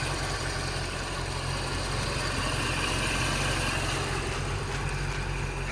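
Supercharged M113K V8 in a 2005 Mercedes CL55 AMG sitting at idle, a close, continuous deep burble with faint whine layered on top, even throughout with no talking.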